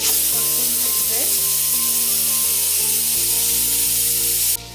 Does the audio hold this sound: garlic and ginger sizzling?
yes